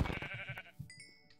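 A sheep in Minecraft lets out a short, close bleat with a wavering, nasal tone, followed by a quieter trailing note, with no talking.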